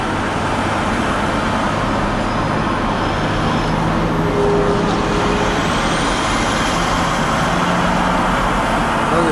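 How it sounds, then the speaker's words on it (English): Steady, dense truck and car traffic rumbles along a town road in rural Florida, a constant roar with passing vehicles and an occasional brake hiss, heard close and without talk. "And here's the big city traffic in rural America."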